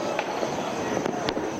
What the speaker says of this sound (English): At the stroke of midnight, fireworks explode their colors above Islamabad